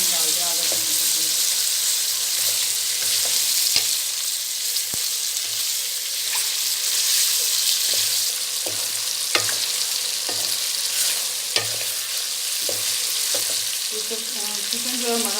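Chicken pieces frying in oil for a tinday gosht curry and stirred around the pan, a continuous close sizzle broken by periodic scraping and clinks of the spoon against the pan.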